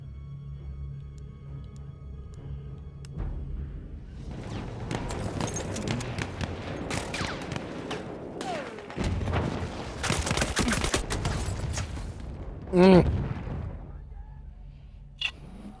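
Sustained heavy machine gun fire crackles in long dense bursts amid explosions in Battlefield 1's Storm of Steel campaign, with a loud impact near the end and a voice speaking briefly.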